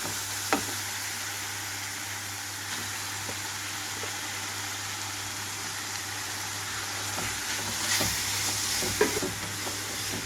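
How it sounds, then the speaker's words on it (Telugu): Fenugreek leaves fry in a curry pan with tomato, giving a constant close sizzle broken by a few sharp knocks and scrapes of stirring, with no talk over it. "ఇప్పుడు ఇందులోకైతే నేను క్లీన్ చేసి పెట్టుకున్నాను మెంతి కూర అంతా ఇందులో వేస్తున్నాను"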